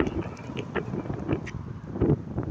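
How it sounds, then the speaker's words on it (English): Gusty wind in Las Vegas buffets the microphone in uneven rumbling bursts, with faint rustling in the background. "It's a very windy day here in Vegas."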